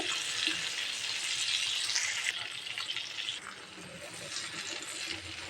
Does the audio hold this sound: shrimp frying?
yes